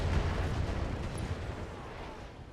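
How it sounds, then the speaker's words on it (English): A mech in the BattleTech video game fires its LRM missiles and other weapons, producing a dull, booming burst of impacts that fades over a couple of seconds, heard fairly quietly and without voices. "We'll finish him off with LRMs. Firing all weapons."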